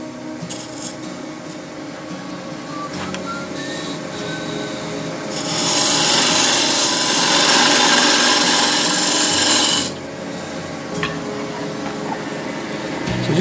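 A wood lathe turns a dovetail into the end of a sacrificial glue block, a loud continuous broadband cutting rasp for about four seconds in the middle, with quieter scraping and tool sounds before and after.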